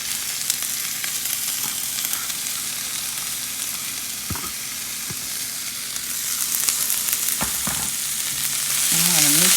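Strained beef and onions sizzle and fry in a pan, a steady close crackle with occasional stirring scrapes and knocks, growing slightly louder toward the end.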